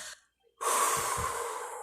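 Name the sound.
person breathing out to demonstrate respiration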